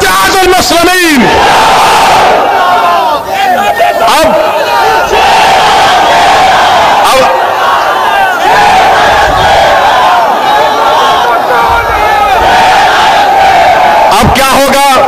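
A dense crowd chants slogans at a political rally in India, a loud, continuous roar of many voices with rhythmic call-and-response shouts filling the whole stretch.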